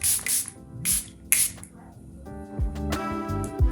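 Makeup setting spray misted onto the face in several quick, close hissing bursts, each short and breathy, followed by faint rustling and handling sounds.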